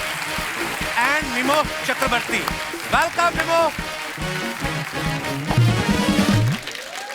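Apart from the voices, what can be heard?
audience applause welcoming guests on Kapil Sharma Show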